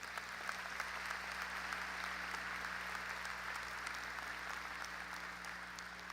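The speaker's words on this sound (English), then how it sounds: "How about a round of applause for those students?" A graduation audience applauds, a steady, even wash of many hands clapping at a distance, sustained without a break under a faint low hum.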